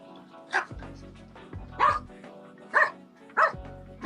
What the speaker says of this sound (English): Shut that dog up, bro.